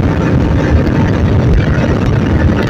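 Yamaha R15 V4 motorcycle running fast in sixth gear, a steady loud engine drone mixed with rushing wind noise, close and continuous.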